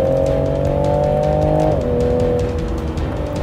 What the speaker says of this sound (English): I love the sound of the car with the engine.